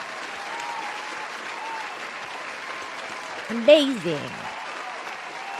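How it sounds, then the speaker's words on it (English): A sustained applause sound effect hisses steadily in the background as a crowd-like clapping bed, while a voice briefly speaks over it partway through. "We need some clapping sounds over here for this absolute chat."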